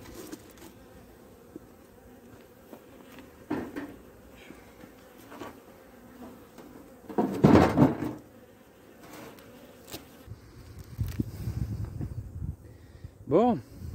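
Honeybees buzz around freshly opened beehives on the coast, a steady close drone with louder passes of individual bees near the microphone, some wingbeats swelling briefly before fading back into the hum.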